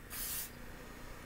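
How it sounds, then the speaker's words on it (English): A short, loud hiss of Nutrimetics Body Satin apricot kernel oil body spray bursting from the nozzle in one pump, then cutting off to quiet room tone. "The body satin apricot kernel oil spray."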